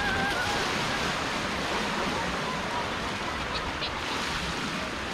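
Water rushes steadily down a high-speed slide at a Sri Lankan water park, a loud, dense, unbroken roar of spray and flow filling the whole stretch with no pauses.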